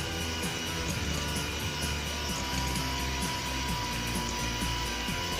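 An electric mixer whirs steadily as it beats butter and powdered sugar for Dutch butter cake, a continuous motorized drone with a rhythmic rattling pulse, fairly quiet and close, with no voices.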